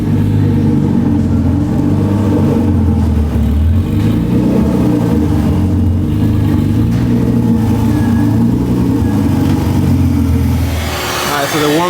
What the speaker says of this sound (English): Honestly, it sounds stock. There's no cams, doesn't idle nothing crazy.